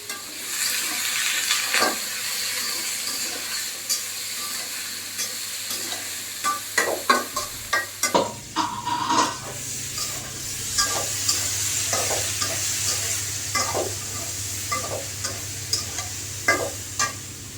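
Fish frying in a pan of hot oil with cumin, a steady loud sizzle broken by sharp spatula scrapes and stirring knocks, with a low hum in the background; no one speaks.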